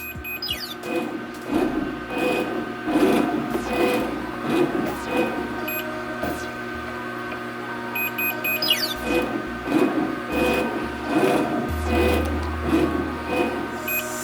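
An embroidery machine traces a design outline for a jacket or hat, its carriage moving in repeated rhythmic bursts of motor whir and clicking over a steady electrical hum, with occasional faint beeps.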